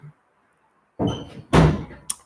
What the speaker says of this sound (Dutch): kun jij misschien de deur dicht doen?